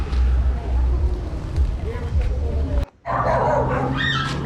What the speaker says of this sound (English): Oh God, what a dog here.